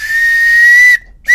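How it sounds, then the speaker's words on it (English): A 7-in-1 survival whistle blown close and loud: one shrill, steady high tone held for about a second, then a short second blast. "You've got your whistle. So here's the tone on that."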